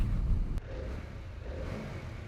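A Harley-Davidson Pan America 1250 motorcycle engine runs with a low, throaty rumble that dips after a brief click and then settles into a steady idle.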